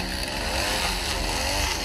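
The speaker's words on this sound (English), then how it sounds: "cut his head off with the chainsaw" A chainsaw runs in an office horror game, a loud, steady buzzing roar that fills the whole moment without a break.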